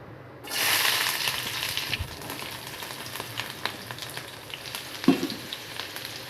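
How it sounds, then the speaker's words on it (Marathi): Chopped onion hits hot oil in a pan at home, bursting into a loud, steady sizzle that carries on under light stirring and spatula scrapes, with a sharper clatter near the end. "आपण पॅनमध्ये तेल टाकलेलं आहे तापलेलं आहे ते त्यामध्ये आता मी कांदा टाकते"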